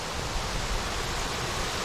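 Small waterfalls in a remote mountain valley pour with a steady, dense, even rush of falling water, close and uninterrupted, with no voices.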